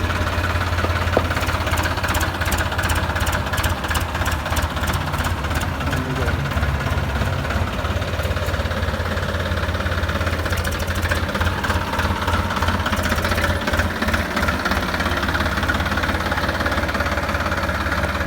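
A New Holland TT45 tractor engine revs steadily throughout, a deep rumbling drone with a rattling, knocking texture, loud and close with no voices.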